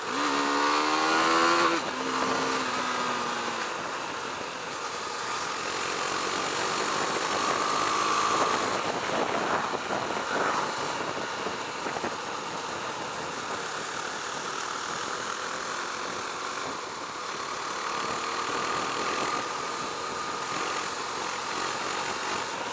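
A Husqvarna Svartpilen 401 motorcycle engine runs on the road with a steady buzzing drone and wind rush, its pitch shifting during a downshift early on before it holds a smooth, even note.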